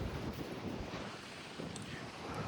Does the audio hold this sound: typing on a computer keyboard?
no